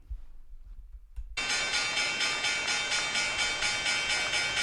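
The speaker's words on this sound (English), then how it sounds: "It's a lot of bells." A stock market opening bell rings loudly after a near-silent start, a dense, sustained clanging that pulses steadily and carries on to the end.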